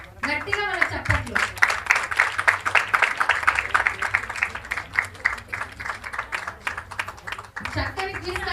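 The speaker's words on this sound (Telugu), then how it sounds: "గట్టిగా వాళ్ళ చప్పట్లు." Rhythmic group clapping for volunteers at a one-day women's church retreat, sharp, regular hand claps in a steady beat with voices talking over them at the start and end.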